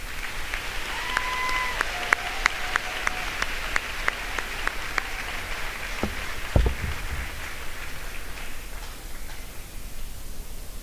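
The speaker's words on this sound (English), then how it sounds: "How about a round of applause for our great band and choir?" Graduation ceremony audience applauding the band and choir, a steady wash of clapping at moderate level lasting throughout, with a few sharp ticks and a brief thump partway, slowly thinning toward the end.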